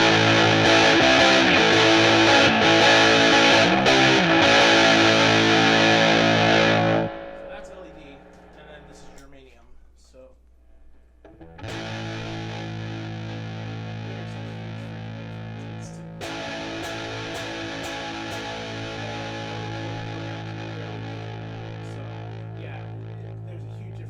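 An electric guitar runs through a CMC Effects SuperMuff fuzz pedal on its LED tone setting, giving thick, heavily distorted chords that cut out briefly and then return, loud and close, with speech heard at times.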